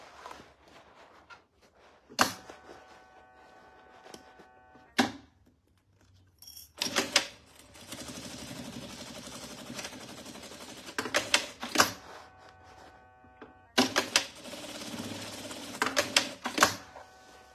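A sewing machine stitches the seams of a crossbody bag in several bursts of rapid mechanical whirring, each run stopping and starting again, close and fairly loud against a quiet room.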